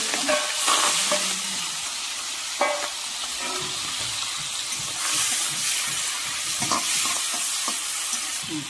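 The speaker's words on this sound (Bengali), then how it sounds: "মাছে হলুদ দিয়ে দিচ্ছি, নুন দিয়ে দিচ্ছি, মাছটা ভেজে দিচ্ছি।" Prawns seasoned with turmeric and salt fry in hot oil for a Bengali lau chingri dish, giving a loud, steady close sizzle with occasional stirring scrapes and spits.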